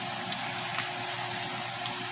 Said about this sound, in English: So we got our hood fan going,